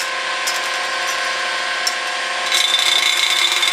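The small electric motor of a mini reed organ runs with a continuous, steady high-pitched whir and rasp close to the listener, growing a little rougher and louder toward the end, with no talk heard.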